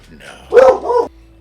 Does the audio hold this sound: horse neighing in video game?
no